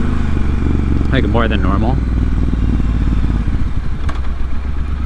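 A motorcycle engine drones steadily and close throughout the ride, a continuous low rumble with a few light clatters, while someone talks over it.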